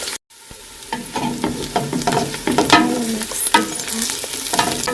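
Onions frying in a pot with crushed ginger and garlic paste just added, a steady loud sizzle with stirring scrapes and clinks throughout after a brief silent gap at the start.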